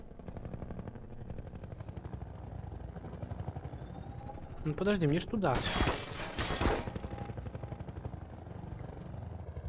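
Helicopter in the Half-Life 2 VR video game, a steady rotor drone running throughout under a man's speech, with a loud burst of crashing or gunfire-like noise in the middle.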